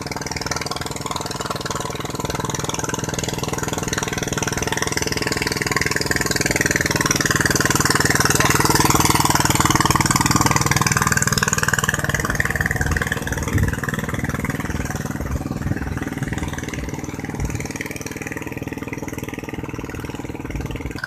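Kubota RT140 and Yanmar 120 DI walk-behind tractors work a heavily flooded rice paddy, their engines droning and chugging steadily throughout, swelling slightly midway, with no talk.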